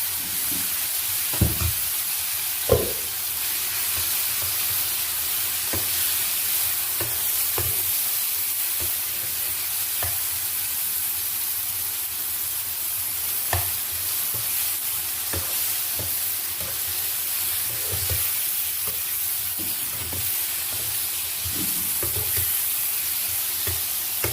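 Taro leaves (kochu shak) being stir-fried in a pan, with a steady low sizzle and hiss running throughout and intermittent spatula knocks and scrapes, close by and with no voices.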